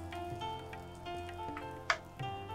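Mango malpua frying in hot oil gives a steady close sizzle with soft bubbling crackle, plus one sharper spatter burst partway through; no one speaks.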